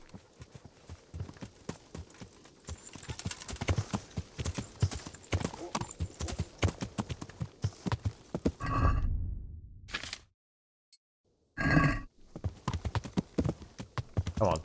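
Horse hooves clip-clopping on a track in the video game Kingdom Come: Deliverance, a steady rhythmic trot with a neigh, a short drop to silence, then hoofbeats resume; a voice speaks intermittently over the ride.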